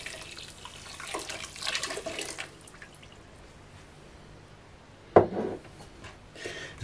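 Water is poured into a pot to make syrup for a Greek sweet, a soft running splash through the first few seconds, followed by a sharp clunk and a brief trickle near the end.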